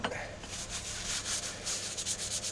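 Close, steady rubbing of cloth or paper over an old screwdriver's wooden handle while applying sanding sealant, with rhythmic hissy strokes continuing throughout.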